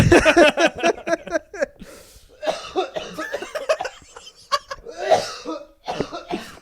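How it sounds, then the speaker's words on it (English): A person laughs and then breaks into coughing, with throaty bursts and breathy gasps mixed in, close and fairly loud. "I secretly love that when someone laughs and they cough."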